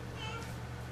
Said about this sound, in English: Get out, silly cat.